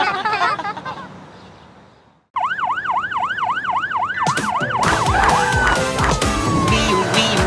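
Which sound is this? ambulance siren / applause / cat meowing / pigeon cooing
ambulance siren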